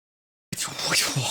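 A single sharp sneeze bursts out close and loud right after a moment of silence, trailing off into a brief breathy tail.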